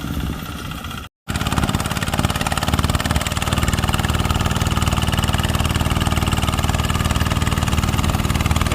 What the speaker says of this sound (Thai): อันี้ก็พามาดู รถไถเดินตามนะครับ ปั่นปั่นแปลง แปลงปลูกมันเราไปดินทรายนะครับ